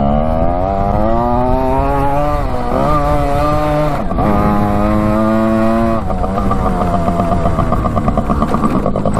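A 1967 Yamaha motorcycle barn find, revived after sitting over 40 years, runs loud and close with a buzzy engine note whose pitch climbs and dips through several revs across the clip.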